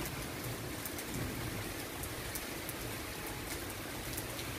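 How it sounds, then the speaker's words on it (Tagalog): Heavy rain pouring down outdoors during a storm, a constant loud hiss of drops striking surfaces with no letup and no voices. "Ang lakas ng patak ng ulan."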